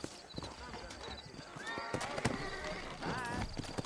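Horse hooves clip-clop steadily in Red Dead Redemption, a Western video game set in a frontier town, with an occasional whinny and someone talking over the moderately loud hoofbeats.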